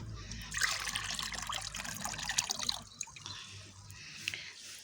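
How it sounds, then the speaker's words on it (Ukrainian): Organic fertilizer infusion is poured into a container of water, making a steady close trickle and splash that softens into lighter dribbles toward the end. "На 10 літрів води беремо 1 літр настою."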